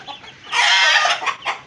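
Hens kept as pets in a cage cluck in short bursts, then let out one loud, drawn-out squawk mid-clip, followed by a few sharper clucks close by.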